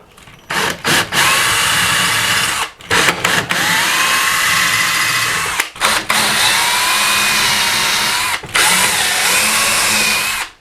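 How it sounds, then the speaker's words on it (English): A power drill whirs in several bursts, stopping and restarting between holes, with a high motor whine and rough grinding as it bores through drywall. "we're going to come in here and drill our first set of holes"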